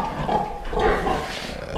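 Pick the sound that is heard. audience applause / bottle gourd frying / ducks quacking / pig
pig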